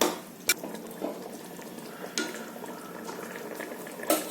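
Rice is added to a bubbling pot of boiling liquid and stirred, with a steady simmer and a few soft scrapes and clinks of a spoon against the pot, up close with no talk.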